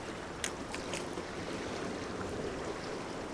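Gentle waves wash and slosh on open water around a boat during a lure fishing test, a constant soft broadband surge with a few faint clicks, low in level and without speech.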